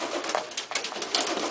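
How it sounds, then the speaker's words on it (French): Homing pigeons coo softly in a loft, a close run of throaty, overlapping calls with no voices. "les pigeons,"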